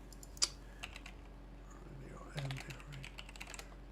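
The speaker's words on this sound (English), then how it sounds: "Let me just type it in." Light typing on a computer keyboard, scattered soft key taps with a slightly louder click early on, faint against a low background hum, with a person speaking quietly.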